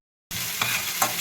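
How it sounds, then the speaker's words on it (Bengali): Ginger, garlic and coriander paste with green chillies frying in a pan, a steady sizzle starting abruptly after a brief silence, with a couple of scraping stirs on top. "আদা রসুন আর ধনে পাতা বাটা, কাঁচা লঙ্কা দিয়ে তারপর আমি এটাকে নাড়াবো,"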